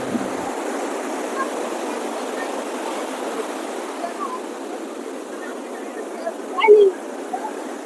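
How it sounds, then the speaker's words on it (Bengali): Ocean waves roll onto Puri beach in an even, steady wash of surf that stays level throughout, with a brief brighter splash or cry near the end. "প্রথমে চলো সমুদ্রকে দেখি।"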